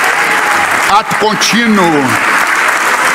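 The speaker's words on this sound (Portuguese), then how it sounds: "Vocês podem aplaudir a Jesus." A church congregation applauds in a steady, loud wash of clapping that fills the whole space, while someone speaks briefly over it.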